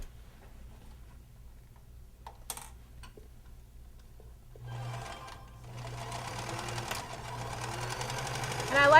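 A sewing machine stitches a mitten with a steady low motor hum throughout, its whirring growing louder and busier during the second half.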